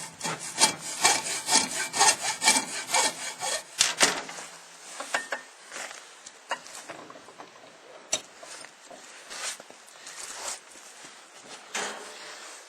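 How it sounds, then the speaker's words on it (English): A handsaw cuts off the end of an axe handle wedge while rehandling an axe, giving close, loud rasping back-and-forth strokes that thin into lighter, scattered scraping and taps, with no talking. "Now we're going to cut that off a little bit closer."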